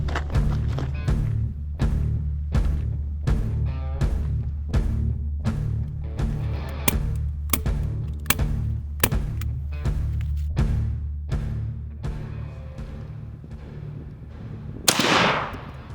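A 20-gauge shotgun fires Winchester TSS shells at targets outdoors, a dozen or more sharp loud blasts spaced roughly a second apart, each with a short ringing decay, with a louder blast near the end.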